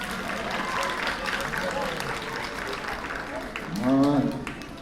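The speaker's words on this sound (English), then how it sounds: "Give them another round of applause." Audience clapping at a school spelling bee for third and fourth graders, moderate applause running a few seconds with talk and a rising voice near the end.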